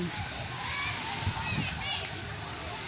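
Clear, calm sea water splashing and sloshing around people bathing at a beach in hot weather, with children's and other voices talking over the watery movement.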